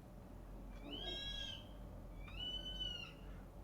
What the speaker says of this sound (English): You're gonna hear the bird in the background.